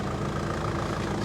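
A diesel Jeep Patriot with about 146,000 miles idles on a darkening street, a steady low, rumbling drone that holds even and close throughout with no voices.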